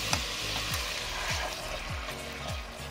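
Pieces of food fry and sizzle steadily in a hot pan, a continuous loud crackle with occasional stirring scrapes, close up and with no talking.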